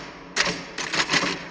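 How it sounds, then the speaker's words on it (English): A typewriter from the film The Shining being typed on, a short run of crisp mechanical keystrokes in quick irregular clusters, close and clear over faint room noise. "Whenever I'm in here, you hear me typing."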